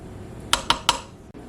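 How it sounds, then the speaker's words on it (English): Meat going into a cooking pot while winter recipes are made at home, heard as three quick, close, bright metallic clinks of utensil against pot, evenly spaced, with no talking. "And the meat goes into the pot."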